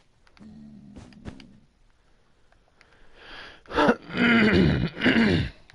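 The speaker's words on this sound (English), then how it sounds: "I promise eventually I'll stop clearing my throat." Throat clearing from a livestreamer, a low rasping harrumph near the start, then louder gravelly throat sounds in three bursts toward the end, close to the microphone with no other talk.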